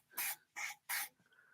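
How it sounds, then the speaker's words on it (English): Three short, loud, close bursts of an aerosol spray squirted in quick succession, each a sharp hiss about a fifth of a second long, with a faint tone lingering after. "This is the spray I was telling you about."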